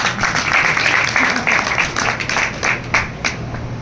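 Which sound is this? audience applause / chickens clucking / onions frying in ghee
audience applause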